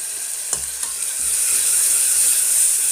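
Ginger garlic paste sizzling and frying in a pan for veg biryani, a steady loud hiss with a few sharp stirring clicks early on, no voices.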